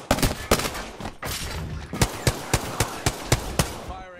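Video game gunfire rings out in sharp, evenly spaced single shots, first a few scattered bursts and then a steady rhythmic series of loud cracks, close and prominent.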